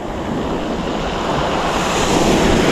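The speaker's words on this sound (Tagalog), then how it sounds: "sa tabing dagat" Ocean waves wash steadily onto the seashore at night while fishing, a continuous loud surf roar with wind buffeting the microphone and no talking.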